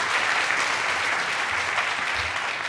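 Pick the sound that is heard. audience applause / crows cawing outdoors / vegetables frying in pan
audience applause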